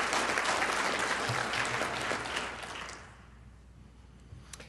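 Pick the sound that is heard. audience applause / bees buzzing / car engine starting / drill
audience applause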